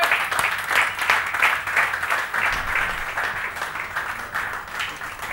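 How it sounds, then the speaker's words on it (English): An indoor audience at an awards felicitation ceremony applauds steadily, a dense wash of many hands clapping at an even, sustained level throughout. "Come on, a big round of applause."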